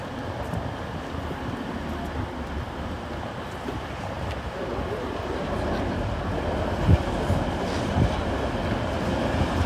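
A TransPennine Express train, the Cleethorpes to Manchester Piccadilly service, rumbles through Doncaster station with a steady, wind-blown low roar and occasional rail clanks for about ten seconds.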